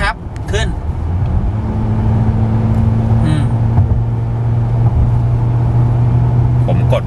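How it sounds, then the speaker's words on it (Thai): A Honda Accord 2.4 accelerates at half throttle from 80 km/h, heard from inside as a loud, steady engine drone with road roar. A voice is briefly heard at the start. "ลองมาดูซิว่าเกียร์กับเครื่องเนี่ยทำงานร่วมกันจะฉลาดแค่ไหนถ้าเรามาครึ่งคันเร่งโดยเริ่มที่ความเร็ว80"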